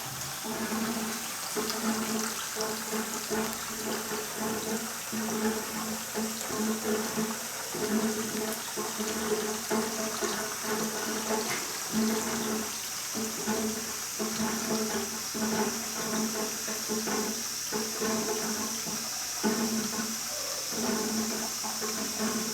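Water gushes steadily out of a tube during a carbon filter backwash in a water treatment setup, a continuous loud rushing and splashing that holds unbroken throughout with no voices.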